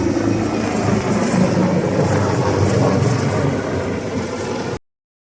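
An AW-139 search-and-rescue helicopter flying past at the Malta International Airshow, a loud continuous rotor and turbine roar holding steady for several seconds, then cutting off abruptly.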